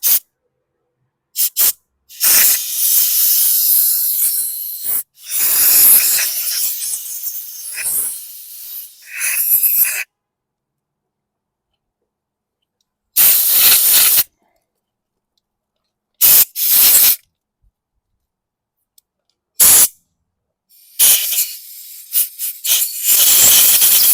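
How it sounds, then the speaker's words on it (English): Compressed air hisses in sharp bursts while cleaning out the carburetor of a 2016 Husqvarna AWD lawn mower, with several long blasts followed by short intermittent puffs and silent gaps between them. "I'm going to clean this out with some compressed air."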